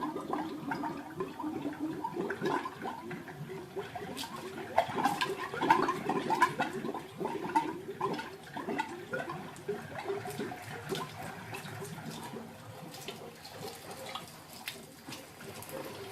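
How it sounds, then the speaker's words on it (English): A newly installed bathroom faucet runs as trapped air is purged, water gushing and sputtering unevenly with irregular spits and bursts at moderate loudness. "you're going to hear a lot of noise of air being purged out of the system"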